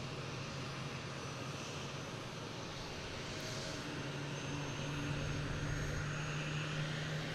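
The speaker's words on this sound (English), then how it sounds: "next taking off is WestJet heading to Calgary" A WestJet airliner taking off from Boston Logan for Calgary, a broad, steady jet roar with a low engine drone that builds slightly in loudness, with no voices over it.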